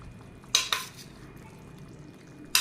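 A few short clinks of a utensil scraping against a pan while stirring fried chicken into a green gravy, spaced apart, over a soft steady background hiss.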